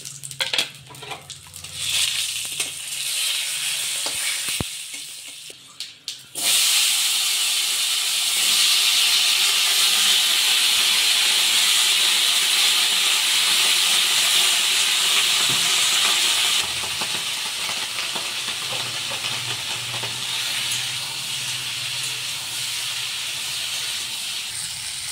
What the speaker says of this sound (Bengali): পাঁচফোড়ন, তেজপাতা, শুকনো লঙ্কা আমি তেলের উপরে দিয়ে দিচ্ছি